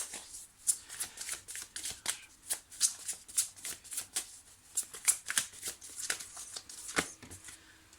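Tarot cards shuffled and drawn by hand, a steady run of soft riffling flicks and snapping card edges close up, continuous over several seconds with no talk.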